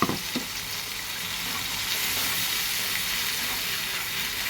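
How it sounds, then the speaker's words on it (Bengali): Onion, ginger, garlic and spices fry in a pan with a steady, broad sizzle, preceded by a brief clatter at the start as the mixture is stirred; close and continuous, no talking. "এটাকে ভালো করে নাড়তে হবে যতক্ষণ না আদার কাঁচা গন্ধটা চলে যাচ্ছে ততক্ষণ"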